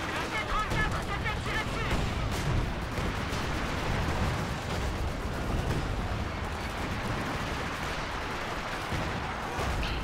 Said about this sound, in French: Le Firefly qui tire sur le Jack Panzer qui le stun